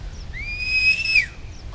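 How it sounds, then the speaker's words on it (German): A single clear, rising-then-steady whistle from the player character in theHunter hunting game, lasting about a second over faint outdoor ambience, with no talk. "Oh, ich hab mal gepfiffen."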